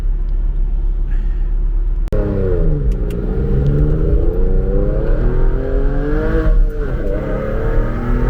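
A Porsche 996 Carrera's naturally aspirated engine accelerates hard from inside the cabin, a loud steady rumble that rises in pitch through the gears, with a sharp click and a brief dip partway through.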